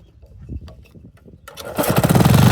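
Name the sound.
1976 3hp Briggs and Stratton engine being started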